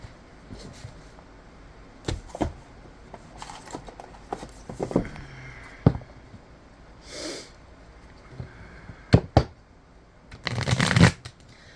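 A deck of cards being shuffled in a quiet room, heard as several separate bursts of riffling and snapping spread across the stretch, with a longer, denser riffle near the end and no talking.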